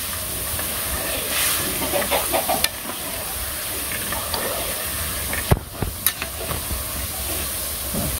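Radish frying in a pan during simple village cooking, a steady broadband sizzle with occasional stirring clatters and sharp knocks, no talking.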